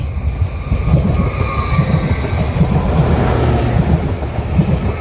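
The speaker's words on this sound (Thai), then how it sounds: "เสียงรถไฟ" A passing train makes a loud, steady, close rumble with rhythmic low thumping of wheels over the rails and a broad roaring wash throughout.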